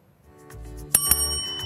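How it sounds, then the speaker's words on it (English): Electric school bell ringing for the start of class, a bright metallic ring building from a low hum into two sharp loud strikes that keep sounding with sustained tones. "The bell has rung and you heard it right"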